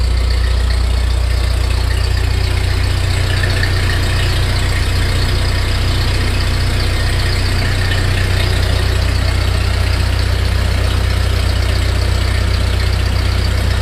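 A freshly rebuilt Ford 8N tractor engine idles loud and close, a deep, steady low rumble with an even chug that holds without change throughout, no voices.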